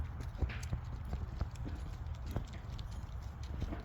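Irregular hoof clatter of goats on a hard surface, several animals stepping close by in an uneven rhythm over low outdoor background noise.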